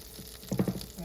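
Slices of cinnamon raisin bread dipped for French toast frying in melted butter in a pan: a faint steady sizzle with a brief cluster of louder low thumps and crackles near the middle.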